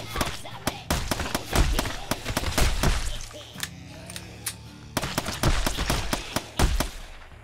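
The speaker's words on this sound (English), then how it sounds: "We're just gonna keep using our guns." Rapid bursts of gunfire ring out in the zombie shooter Whiskey & Zombies, loud cracking shots in quick clusters with a brief lull midway before firing resumes.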